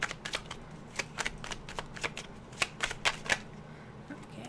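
Tarot cards are shuffled and pulled in a quiet room, giving a close, soft run of quick riffling snaps and flicks in irregular bursts, with no voice.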